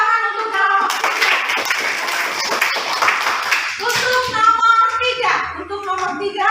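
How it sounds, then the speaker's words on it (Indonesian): Classroom students clapping for a presenting group, a burst of brisk hand claps that fades into a teacher's voice speaking over the last of the applause. "Oke, kita kasih tepuk tangan untuk kelompok 3."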